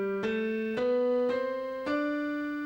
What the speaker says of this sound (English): If I were to play that on the piano, okay, it would sound like this.